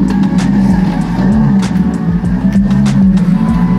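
Car engine turning over and revving: loud, close, with rapid rising and falling bursts of engine pitch.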